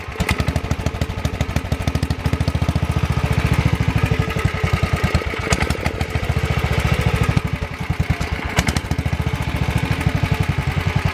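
An old garden tractor's Tecumseh HH100 single-cylinder engine runs loud and close with a steady, fast thumping beat and some clattering rhythm, lightly hunting throughout with no talk.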